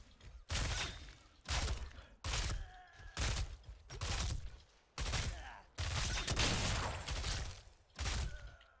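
Loud, sharp bursts of gunfire in Heroes of the Storm come in quick, irregular volleys, about a dozen blasts separated by brief pauses.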